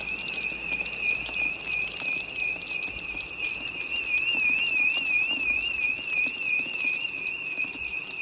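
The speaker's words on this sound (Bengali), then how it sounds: "খুব বৃষ্টি, খুব সুন্দর লাগতেছে" Heavy rain pours down in a dense, continuous hiss, while a steady warbling alarm tone rings clearly above it throughout.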